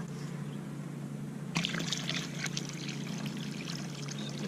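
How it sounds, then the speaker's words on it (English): Water is poured into a hole dug in the ground for a rain garden percolation test, a steady splashing gush that starts suddenly and continues over low outdoor background hum. "now we're going to add water. Pretty much fill the hole."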